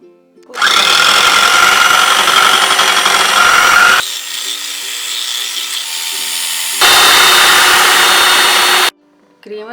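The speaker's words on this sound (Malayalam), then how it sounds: "അടുത്തതായി നമുക്ക് വിപ്പിംഗ് ക്രീം ഒന്ന് ബീറ്റ് ചെയ്തെടുക്കാം." An electric hand mixer beats whipping cream for a mango pudding, a loud steady whir running in three long bursts with a short drop in speed between them and a brief stop at the end.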